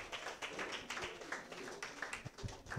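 Audience at a graduation ceremony applauding, a soft, fairly distant patter of many hands clapping steadily throughout, with no speech over it.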